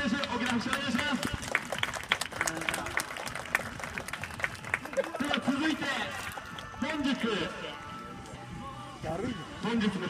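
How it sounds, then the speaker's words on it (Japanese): A stadium crowd claps and cheers for a football goal scorer, steady applause mixed with a loud announcer voice and crowd noise throughout. "中村太地選手、大きな拍手お願いします"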